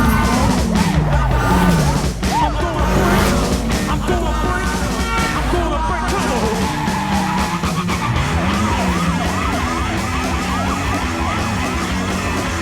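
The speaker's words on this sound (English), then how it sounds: "every clack of the stick is almost a drum beat, the tyres screeching, well, that becomes the backing track" Film car chase with tyres screeching in long wavering squeals, gear shifts clacking and engines revving, loud and layered with sirens in a busy mix.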